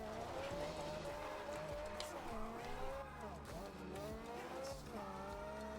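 A car driven in the video game Forza Horizon 2 on the way to a Horizon festival, with a steady engine drone, a shifting tonal whine and some tyre noise running through, under game music or voice.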